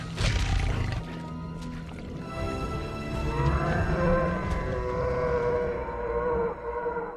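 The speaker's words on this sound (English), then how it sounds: "The carnivores sound closer to a mix of jungle cats and alligators." Deep, guttural carnivorous dinosaur roars rumble loudly and continuously, with growling low tones and rising howling overtones, like a large predator bellowing.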